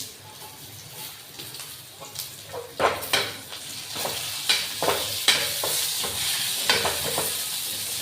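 Tomatoes are tipped into a hot pan of frying kurdai vegetable and stirred, with loud crackling sizzle and repeated close clinks and scrapes of a spoon against the pan.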